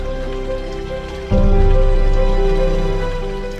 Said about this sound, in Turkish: Yanı başında köyün çeşmesi. Şırıl şırıl akıyor.